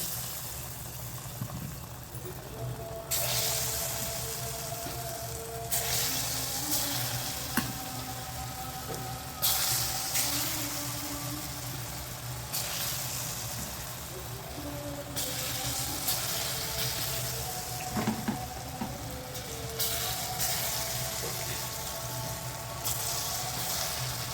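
Small drops of chana dal batter go into hot oil for laddu. The frying hiss surges in repeated bursts as each batch hits the oil, then settles to a steady bubbling sizzle close by, with no talking.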